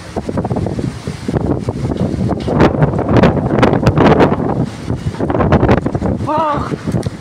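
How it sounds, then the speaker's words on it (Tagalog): Strong wind buffets the microphone in loud, uneven gusts that swell and fade, with people talking over it and a brief tonal whine near the end. "Grabe, lakas ng hangin."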